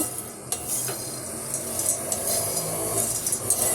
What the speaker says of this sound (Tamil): நல்லா அப்படியே வறுத்துக்கணும் பொட்டுக்கடலை